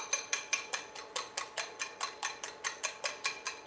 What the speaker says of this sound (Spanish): Vamos a batir los huevos.